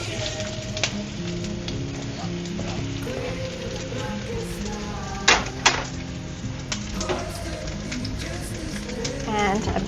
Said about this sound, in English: Let me drop in the onions.